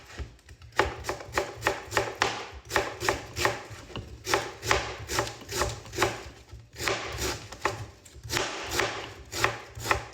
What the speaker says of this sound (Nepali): मेरो काट्ने कला कस्तो रहेछ साथीहरू?